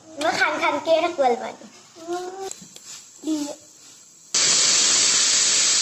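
Someone talks in short bursts, then a loud, steady hiss of steam bursts out of a pressure cooker steaming pitha and continues unbroken to the end.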